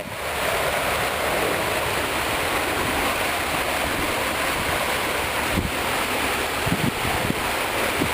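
A water-wheel aerator churns the surface of a wastewater treatment pond, giving a steady, loud rush of splashing water with no pauses and no voices.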